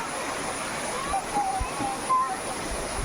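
Continuous rushing of a waterfall pouring nearby at Megamalai, Theni, loud and steady, with a faint voice underneath.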